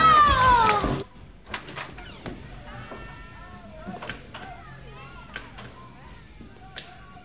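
A cat meows in a scary-movie spoof on a radio show, several short rising cries after a loud opening sound effect, with voices speaking around them.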